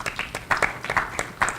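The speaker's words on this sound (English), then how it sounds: "Man, it's popular getting applause." Short burst of applause from a small student government meeting audience, a scattering of hand claps at an uneven rhythm, moderately close, lasting under two seconds.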